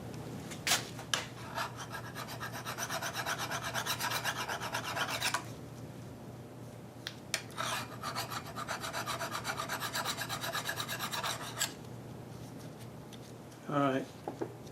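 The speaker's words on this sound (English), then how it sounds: "I'm going to hit that with a file anyway" Hand file rasping on metal while repairing a Maytag 72 engine, two long runs of close, rhythmic back-and-forth filing strokes separated by a pause, with a brief clatter near the end.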